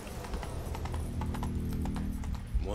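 Horse hooves clip-clop in the video game The Witcher 3 as a horse is led along, a steady run of hoof knocks over a low game hum.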